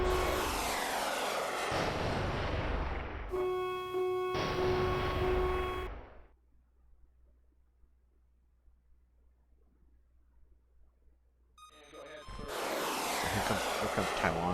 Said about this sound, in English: So here comes Taiwan's Air Force taking off.